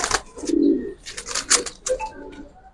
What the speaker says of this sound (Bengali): এটা এটা নর কবুতরটা